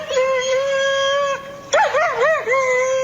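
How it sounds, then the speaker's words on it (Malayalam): A pet dog gives long, wavering, tonal howls and whines close by, one sustained cry, a brief break, then rising and falling yelps that settle into another drawn-out wail. "അതിങ്ങനെ കുരച്ചുകൊണ്ടേയിരുന്നു."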